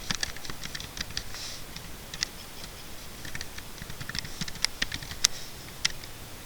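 Quick, uneven keystrokes patter on a computer keyboard as code is typed, close and fairly quiet, with no talk.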